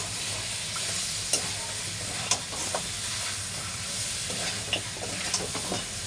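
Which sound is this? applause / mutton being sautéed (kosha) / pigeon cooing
mutton being sautéed (kosha)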